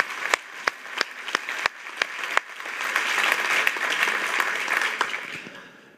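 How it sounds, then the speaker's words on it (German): Applause for sponsors at a German event welcome: a few isolated sharp claps at first, then a fuller round of clapping from the audience that swells and gradually fades. "komm, klatschen wir mal für die,"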